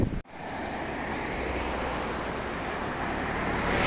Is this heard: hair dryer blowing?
no